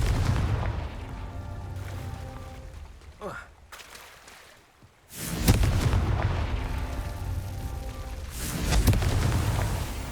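A Confringo blast spell goes off in Hogwarts Legacy during the first Merlin trial, a loud booming burst after a brief lull, with a second heavy rumbling swell later amid game sound and music.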